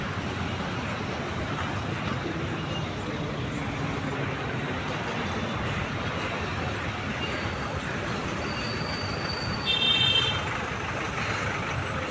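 Steady road traffic hum in a metro area, with passing trucks, buses and cars rumbling at a moderate distance and a brief hiss like an air brake near the end.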